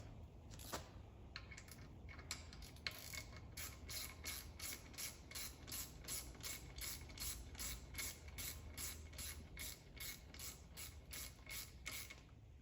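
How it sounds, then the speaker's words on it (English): Ratchet clicking steadily as a cam chain tensioner is screwed in on a Yamaha YXZ engine during cam timing work, a long run of rapid, even close-up clicks with faint creaks and no talking. "we're going to run our tensioner in a little bit and snug that chain up"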